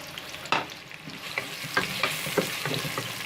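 Two medium onions, sliced, fry in hot oil in a pot with a soft steady sizzle, broken by several sharp scraping clicks of stirring spaced about half a second apart, all close up with no talk.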